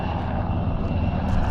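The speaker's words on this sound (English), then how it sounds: "Military chopper, Air Force or Navy." Military Air Force or Navy helicopter passing overhead near a Florida Keys beach, a loud continuous engine and rotor roar that rises slightly toward the end, with no talk.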